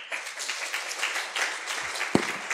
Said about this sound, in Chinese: 那先简单掌声